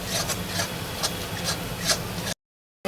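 A spoon scrapes and stirs spice masala frying in a pan for tehari, giving close rhythmic rasping strokes over a sizzling hiss before a sudden cut to silence.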